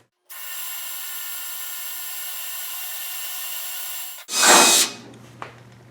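A step drill bit bores a hole in the rear bumper of a Triumph Spitfire, a steady close whine lasting several seconds before a brief, louder grinding burst as the bit breaks through, then quiet.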